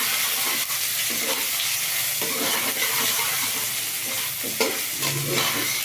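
Chopped onion fries and is stirred in a pan, giving a dense, constant sizzle with repeated scraping strokes of a spatula, close and fairly loud, with no talking.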